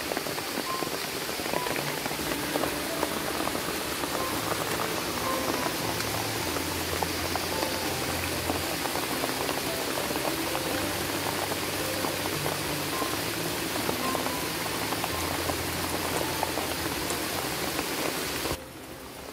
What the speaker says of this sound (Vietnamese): Bên ngoài vẫn đang mưa ầm ầm này